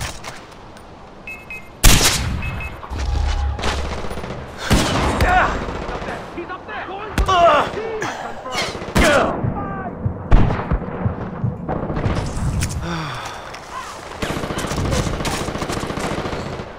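Sniper rifle and other gunfire in the Far Cry 4 video game, the single near sharp shots mixed with bursts and rapid volleys of fire that run loud and busy throughout, with some voices talking in between.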